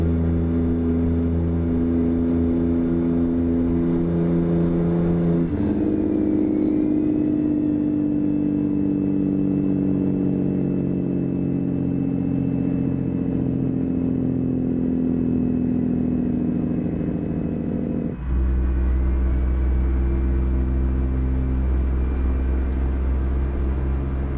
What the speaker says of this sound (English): I think this motor sounds different in this truck.